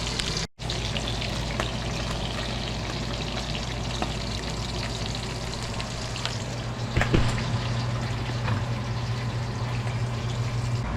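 A covered pot of stew simmers on a home stove, giving a steady soft bubbling and hiss that runs unbroken throughout, with a slightly louder burble near the end.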